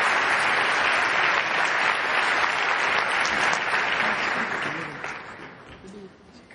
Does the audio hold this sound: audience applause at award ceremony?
yes